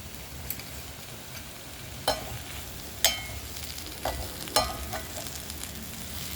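Potato masala frying and sizzling in a pan, stirred with a few distinct spatula scrapes and knocks over a steady sizzle.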